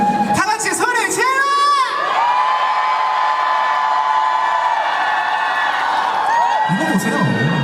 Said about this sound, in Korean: 다 같이 소리 질러!